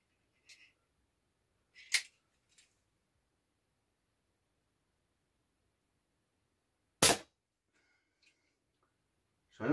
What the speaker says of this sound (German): Schießen wir Federbolzen.